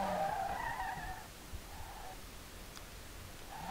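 Car in the SLRR driving game at full throttle during drifting, a sustained high engine note and tire skidding that fades partway, then rises again briefly near the end; no talking.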